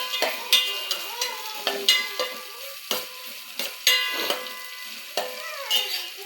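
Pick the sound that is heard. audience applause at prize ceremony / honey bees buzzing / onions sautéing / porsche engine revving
onions sautéing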